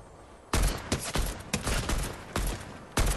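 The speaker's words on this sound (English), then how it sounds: "That sounds like Neil's shooting someone." Fortnite gunfire: a series of loud, sharp shots and short bursts spaced irregularly, each punching in hard over a rumbling background.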